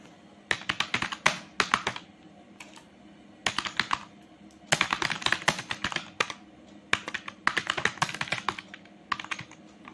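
Someone types on a computer keyboard in quick bursts of close, crisp key clicks, separated by short pauses.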